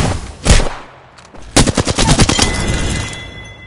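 Rapid bursts of video game gunfire from a PS4 shooter: one sharp shot, a pause, then a fast rattling volley of repeated shots with an electronic whine beneath, loud and close, with no talking.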